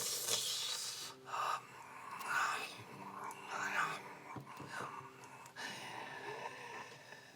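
A voice mimics breathing with a series of soft, breathy whispered exhalations and gasping inhales, several rhythmic pulses at close range with little else around them.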